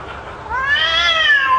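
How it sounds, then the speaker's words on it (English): A female cat in heat gives a single long, rising and wavering meow, played from a looped recording, fairly loud over a faint background hum, with no talking. "I have an endless loop here of a cat in heat."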